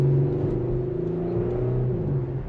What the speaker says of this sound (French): C'est vraiment le bruit du moteur.